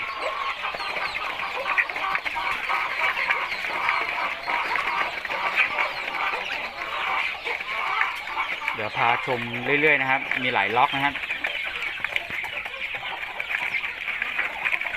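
Chickens about three months old cluck and chatter continuously on a farm, with one louder, near call partway through, while someone talks over them.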